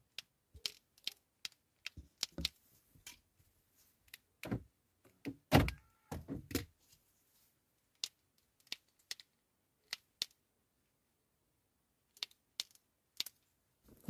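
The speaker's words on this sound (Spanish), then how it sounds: "saco la llave, abro y cierro la puerta" Honda Accord car door opened and closed: a sparse run of sharp clicks and knocks, then a cluster of heavier thumps from the latch and door, followed by more scattered clicks, fairly close, with no talking.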